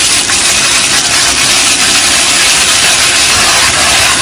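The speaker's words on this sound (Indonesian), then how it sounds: "Kemudian siapkan wajan, beri sedikit minyak untuk menggoreng tahunya terlebih dahulu." Tofu frying in a little oil in a wok, a loud, dense, continuous sizzling hiss that fills the whole stretch without a break.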